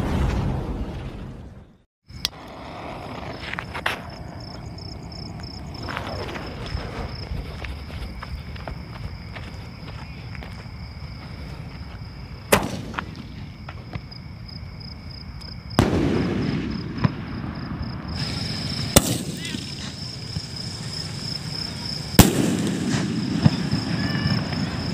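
A Cock Golden Core sky shot firework goes off outdoors in a Diwali test, with sharp bursts and crackling pops scattered across the clip, several louder launches standing out over a constant noisy background.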